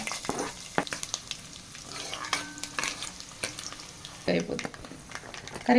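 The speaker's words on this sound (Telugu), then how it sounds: "గోలియానికి నూనె పోసాం జీలకర్ర ఆవాలు మంచి మిర్చి కూడా వేస్తుంది" Cumin, mustard seeds and chillies sizzle in oil in a pan while prasad is cooked, a crackling hiss mixed with stirring scrapes and pops, close up, under occasional speech.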